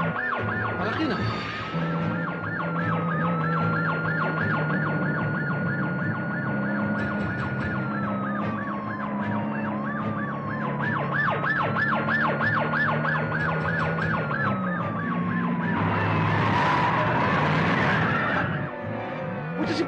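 Ambulance siren wailing continuously at close range, its rising and falling tone cycling steadily over a busy street scene with traffic and a burst of louder noise near the end.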